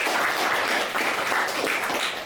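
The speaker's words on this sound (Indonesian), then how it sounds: "Tepuk tangan buat Pak Dayat." Classroom applause for a teacher during a high school mathematics lesson: a steady, dense patter of many hands clapping, sustained evenly for about two seconds with no voices.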